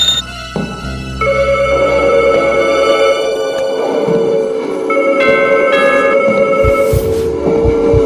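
A telephone bell rings in sustained, shrill tones with a steady, loud background hum and a few clicks.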